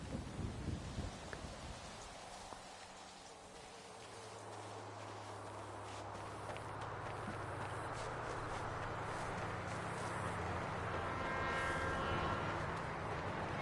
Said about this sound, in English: Alright, there's a train in there.